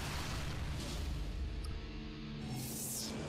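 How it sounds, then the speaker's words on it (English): Explosions in the Homefront video game: a dense, loud, continuous roar of blasts and rumbling booms that fills the whole stretch, with a brighter burst near the end and no talk. "There's a one too many explosions there."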